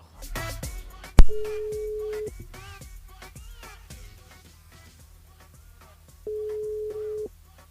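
A telephone rings out on a radio station switchboard while a presenter calls back a listener live on air. Two long steady ring tones separated by a pause stand alone after a brief sharp click and some background noise.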